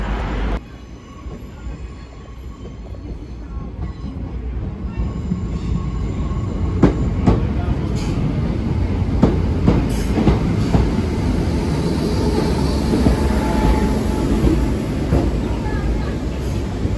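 A train pulls into a station on a trip to Liverpool, with a steady loud rumble of wagons and wheels, a faint squeal of brakes, and sharp clanks and clicks over the rails.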